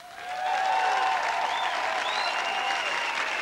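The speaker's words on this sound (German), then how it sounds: "dass ich den Applaus dorthin schicke, wo er heute hingehört, zu unseren 8 Bewerbern" A large audience applauds at the 1994 Austrian Eurovision national final in Vienna's Nachtwerk club, a dense, steady roar of clapping that swells within the first half second and holds loud, with a few faint cheers and whistles on top.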